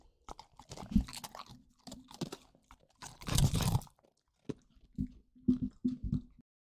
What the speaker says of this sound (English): You're one of those dogs on TikTok that chews into the microphone